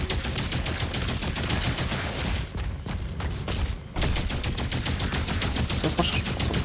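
Rapid, dense weapon fire from DOOM The Dark Ages pounds on almost without pause, with a brief break near the middle for reloading before the barrage resumes just as loud.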